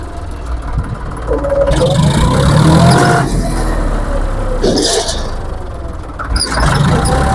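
Engine of a used combine harvester running close by, a loud steady mechanical drone that swells and holds, with brief breaks of clattering noise.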